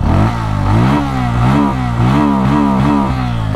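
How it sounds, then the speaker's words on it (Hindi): A Bajaj Pulsar N160 motorcycle exhaust rumbling loud and close, revved repeatedly so the engine pitch rises and falls in several surges. "एग्जॉस्ट नोट सुन लेते"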